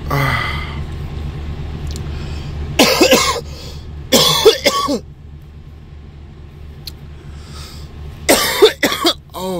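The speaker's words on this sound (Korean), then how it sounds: "기침이야" A person coughs in several harsh, hacking bursts, with pauses between, over a low rumbling background.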